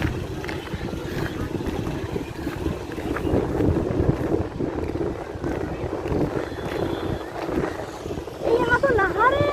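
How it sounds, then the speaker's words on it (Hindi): Gusting wind and sea waves on a beach, a steady rushing roar with buffeting wind noise on the microphone throughout, while people talk over it. "हवा देख रहे हो, वाह क्या लहर है"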